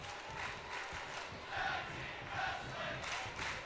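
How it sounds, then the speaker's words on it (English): Arena crowd in the WWE 2K22 wrestling video game chanting during a tag team match, a continuous roar with rhythmic swells of massed voices at steady moderate volume. "This crowd is chanting tag team wrestling"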